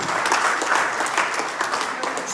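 Audience applause at a COVID warrior award ceremony, a dense, steady crowd clapping that carries on evenly throughout without voices over it.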